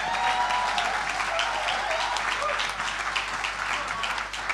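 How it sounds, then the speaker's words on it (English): Audience in a lecture hall at a Bible conference applauds the speakers, steady dense clapping throughout, close and loud, with a few voices and cheers mixed in. "Let's give an amazing round of applause for these incredible speakers"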